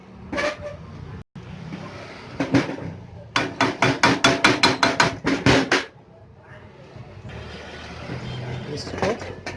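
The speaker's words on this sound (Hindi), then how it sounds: "अब देखिए, इस पर हम हल्का सा चोट मारते हैं।" Light hammer taps on an air cooler exhaust motor under repair ring out as a quick run of about ten sharp, close metallic strikes, framed by shop noise and someone talking.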